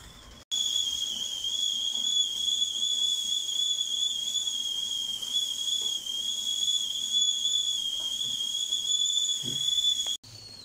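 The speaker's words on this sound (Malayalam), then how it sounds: "ഇപ്പൊ അതിന്റെ വിസിൽ വരുന്നതൊന്ന് കുറഞ്ഞിട്ടുണ്ട്." A pressure cooker whistles steadily while vattayappam steams inside, a continuous high, near whistle with a faint hiss that holds for about ten seconds, then cuts off abruptly.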